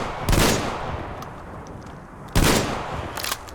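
Two loud booming blasts from the Shambler shotgun in a video game ring out about two seconds apart, each followed by a lingering rumbling tail and faint mechanical clicks.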